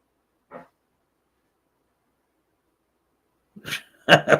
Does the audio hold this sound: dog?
yes